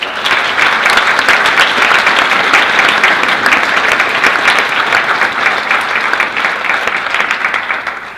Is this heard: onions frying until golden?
no